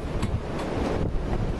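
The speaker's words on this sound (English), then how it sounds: "It is windy out here." Steady wind buffets the microphone outdoors, a constant rushing roar with gusty swells and no voices.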